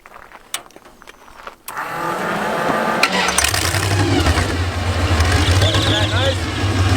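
A street-legal dragster's engine cranks and fires up after a few quiet clicks, then settles into a loud, rumbling idle with a person speaking over it.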